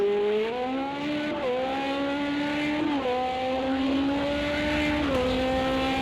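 A race car in a Le Mans 24 Hours sim race gives a loud, continuous engine whine that drops in pitch in steps as it brakes and downshifts into a left-hand corner.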